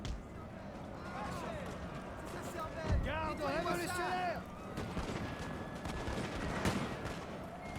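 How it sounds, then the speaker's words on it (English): Artillery fires during a Napoleonic battle in the game Total War: Napoleon, with a dull boom near the middle among scattered distant gunfire, while soldiers shout and voices call out across the field. "Or they got artillery firing."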